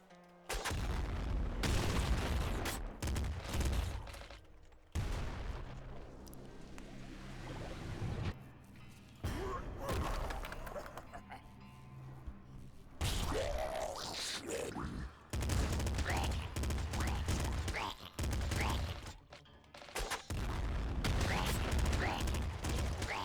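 A missile launches in the video game Nuclear Throne, followed by a dense barrage of booming blasts and rapid gunfire in bursts separated by short pauses, loud and close.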